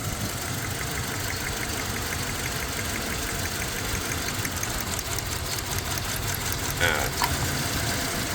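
A Toyota Fortuner engine with a misfire, its wiring chewed by rats, idles roughly with cylinder one unplugged, a steady uneven knocking drone with a voice speaking faintly over it.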